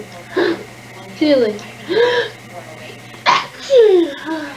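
A baby makes a series of playful fake sneezes, about five or six short bursts spread evenly across a few seconds, close and clear, with an adult voice speaking briefly in between.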